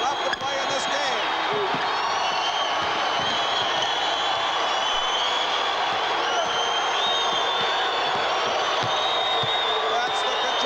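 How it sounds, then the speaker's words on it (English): A Kentucky basketball crowd at a 1979 home game against Tennessee roars continuously, a dense, loud wall of cheering and whistling that never lets up, with faint ball bounces underneath. "That's the Kentucky crowd. Kentucky. They're really rooting them."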